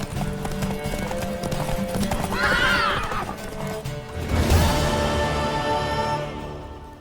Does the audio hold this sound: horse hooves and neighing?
yes